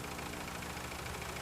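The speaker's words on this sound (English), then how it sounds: "When his tank was filled, Diesel's engine whirred and purred perfectly." A diesel locomotive's engine from a children's railway story idles after refuelling, a steady, even low hum and purr running alone, close and moderately quiet.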